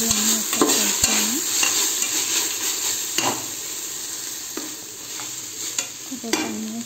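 Vegetables with ginger-garlic paste fry in a pan for pulao, a spoon scraping and stirring repeatedly through a loud, continuous sizzle with occasional metallic clicks.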